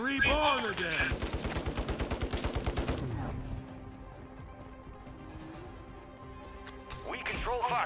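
Rapid bursts of automatic gunfire in a Call of Duty match with the MTZ 556 rifle, a fast rhythmic string of shots for about three seconds, then quieter game ambience and a closing burst.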